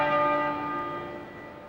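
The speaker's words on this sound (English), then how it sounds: "the tenor bell tolled 101 times" Westminster Abbey's tenor bell tolls at a state funeral, a single rich, sustained strike ringing out and slowly decaying with a long shimmering hum, heard alone.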